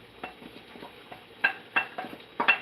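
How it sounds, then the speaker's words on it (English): A spoon stirs ogbono into okra soup in a pot, giving a series of soft scraping clinks against the metal that grow sharper and more frequent toward the end. "I can just add it now and give it a quick stir"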